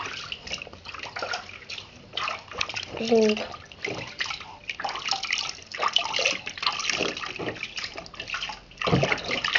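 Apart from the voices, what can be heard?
water splashing during a bath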